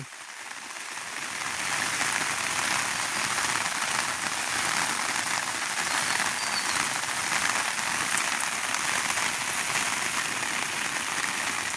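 Steady rain pours down across a flooded rice paddy, a dense even hiss of drops on water and plants that swells slightly after the first second and holds.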